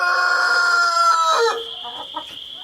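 Chickens on a farm cluck loudly up close, a rooster-like drawn call first, then fainter scattered clucks and chatter as the birds settle.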